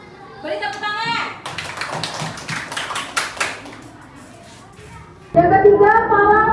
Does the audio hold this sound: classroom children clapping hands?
yes